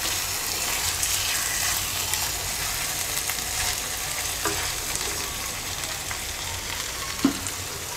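Boal fish frying in a pan for a curry, a continuous close hiss and sizzle of hot oil with faint stirring scrapes and an occasional clink, no talking.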